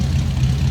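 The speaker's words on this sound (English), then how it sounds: "Old dual exhaust coming out of that flathead." Low, steady rumble of a 1948 Ford Super Deluxe coupe's flathead engine running through old dual exhausts, a close, loud and even idle with no talk.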